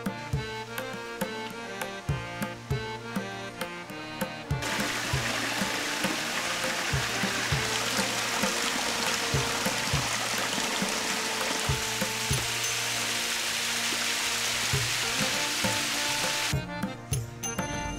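A waterfall in a garden at a village in Northern Thailand sends up a steady rushing wash of falling water that fills the middle stretch, with background music playing throughout and no speech.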